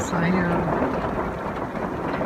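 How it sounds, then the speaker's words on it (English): Heavy rain pours steadily on a camper van in the evening, forming a dense, continuous wash of noise that stays loud and even throughout. "It's raining pretty hard"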